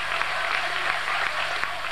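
Audience at the 1987 table tennis European Cup final, Grenzau versus ATSV Saarbrücken, Waldner against Grubba, breaks into applause and cheering after a rally, a dense, steady roar that fills the whole hall for two seconds.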